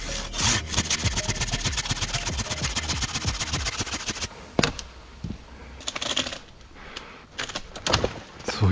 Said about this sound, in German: Ich habe jetzt schon einige zersägt und so lange dauert es gar nicht